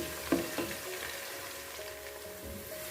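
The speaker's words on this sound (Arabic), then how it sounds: "نقلي البصل شويه حتى يبدا يذبال" Onions frying in a pan, a steady soft sizzle with a couple of small crackles near the start, heard alone without talk.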